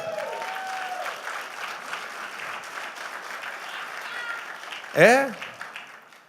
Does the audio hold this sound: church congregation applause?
yes